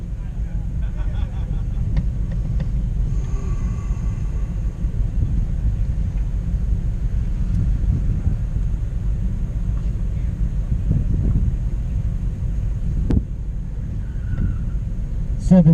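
An F-prepared BMW and a Corvette launch side by side from a Pro Solo autocross start line in Oscoda, Michigan, a steady loud engine rumble filling the whole stretch with a brief sharper burst near the end.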